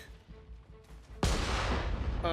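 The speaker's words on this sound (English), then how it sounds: "Shoot all the cannons we can, see what they can break." A cannon blast in the game Nioh 3 bursts out suddenly and loud after a quieter stretch, then rolls on as a dense, roaring rumble to the end.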